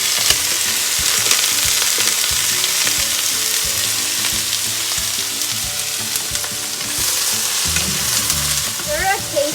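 Garlic and bok choy leaves with salt and pepper sizzle loudly and continuously in a hot pan, with repeated stirring scrapes and a few clinks of the utensil over the steady frying hiss.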